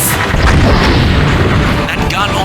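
A super cannon fires in the Starfighters: Raven Station video game, a loud, dense booming blast that rumbles continuously through the whole stretch with heavy low-end weight and no spoken words.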